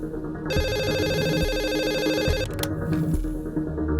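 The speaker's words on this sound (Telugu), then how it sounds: "అజయ్ నీకు ఫోన్ వచ్చింది." A telephone rings with a bright, repeating electronic trill, loud and close, pausing briefly before ringing again.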